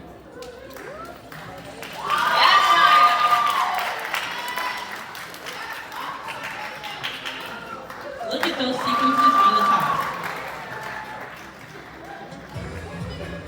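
Audience applause and cheering rise twice at a sustainability fashion showcase as models walk in thrifted and self-designed outfits, swelling in two bursts between stretches of a host talking over the crowd.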